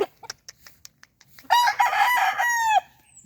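A yellow-legged hatch rooster gives one loud, close crow lasting over a second, preceded by a few soft clucks and clicks.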